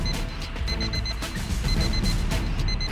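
An alarm ringing on a suspected bomb hidden in a stolen car, a loud repeating electronic beep pattern pulsing steadily over a busy, rumbling background.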